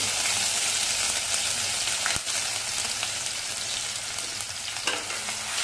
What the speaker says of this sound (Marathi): मी लसूण आणि आलं चांगलं तेलामध्ये परतवून घेतलंय